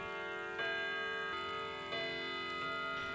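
Several mechanical clocks in a clockmaker's shop tick steadily, with sharp periodic ticks layered over a sustained ringing chime tone, close and moderately loud with no talk.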